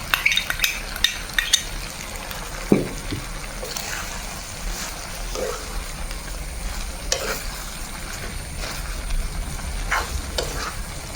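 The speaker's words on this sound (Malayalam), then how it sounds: "ആ പകുതി അരവിലുള്ള തേങ്ങ നമ്മൾ ഇതിലേക്ക് ചേർത്ത് കൊടുത്ത് നന്നായിട്ട് ഒന്ന് ഇളക്കാം" Half-ground coconut being stirred into chicken avial, a Kerala-style dish, with scraping spoon strokes and soft sizzling bubbling in the pot, sharp clinks standing out at irregular moments, with no talk.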